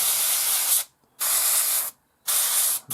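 Thinned Tamiya acrylic paint hissing steadily from an airbrush onto a 1/72 scale Airfix Hawker Hurricane model, in three close bursts with short silent gaps between them.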